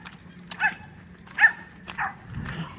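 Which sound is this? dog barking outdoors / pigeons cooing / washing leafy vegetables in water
dog barking outdoors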